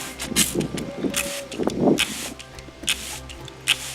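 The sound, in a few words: spray bottle spraying water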